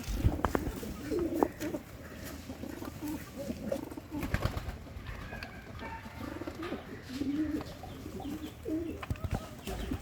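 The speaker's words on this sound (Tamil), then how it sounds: "இதெல்லாம் தான் புறா." Pigeons coo repeatedly in low, soft phrases at feeding time, with scattered chirps and occasional rustling close by, while a person speaks faintly in the background.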